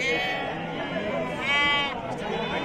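Sheep bleat loudly and close by at a busy sheep market in Gokak, with wavering cries over a constant background of crowd chatter and people talking.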